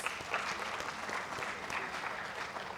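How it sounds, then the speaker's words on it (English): Steady audience applause at an engineering lecture, many hands clapping continuously at moderate distance, no pauses throughout. "we all here deserve a round of applause for ourselves"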